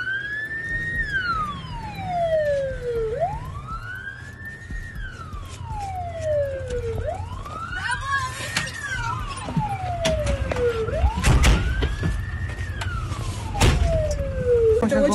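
A fire engine siren wails steadily in rising and falling cycles as the truck leaves on an alarm call, loud and continuous over rumbling engine and street noise, with a few sharp bursts toward the end.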